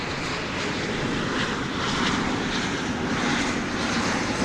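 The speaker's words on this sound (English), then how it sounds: "And finally, the big MD-11 is on the move." A McDonnell Douglas MD-11 jet taxis at DFW airport at daybreak, its engines a steady, loud broadband roar that holds constant throughout with no talking.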